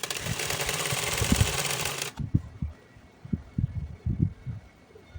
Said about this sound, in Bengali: আমি এটা পুরো সেলাই করে নিচ্ছি।